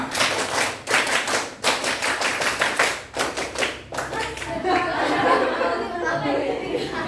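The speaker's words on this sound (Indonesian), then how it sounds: "Tepuk pramuka." A classroom of students performs the rhythmic Pramuka scout clap, sharp patterned handclaps in groups for about four seconds, followed by chatter and light laughter.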